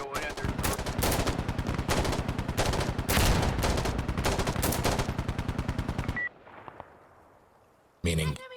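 Rapid, loud automatic gunfire in Insurgency: Sandstorm, a dense rattling stream of shots lasting several seconds before cutting to quiet fading echoes, then a short final burst.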